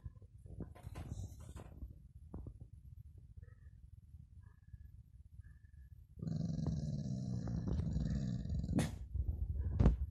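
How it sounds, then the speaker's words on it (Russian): A dog outdoors growls and barks, starting with faint, scattered sounds, then a louder, sustained rumbling growl takes over for the second half. "Это там кто-то гавкает на улице"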